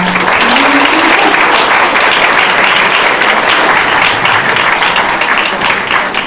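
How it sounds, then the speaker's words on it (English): Sustained audience applause at an award show for a junior hackathon, Hack Manchester Junior 2018, a loud, dense wash of clapping that stays steady throughout with no voices standing out. "So I think we should give them another round of applause for that."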